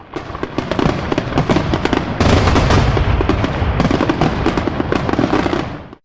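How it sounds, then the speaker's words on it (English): A fireworks finale sound effect erupts in rapid, overlapping bursts, a dense, loud barrage of booms and crackles that keeps swelling before cutting off abruptly. "the fireworks finale is now in full swing"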